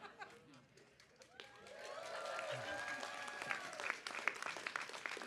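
Audience applause at a commencement ceremony swells from scattered claps into a full, sustained round with cheering voices mixed in, growing louder toward the end.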